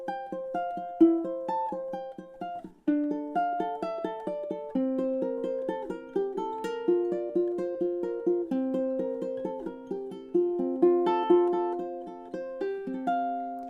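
Solo ukulele picks out a melody, a steady run of plucked single notes and light chords, close and clear, with no talking.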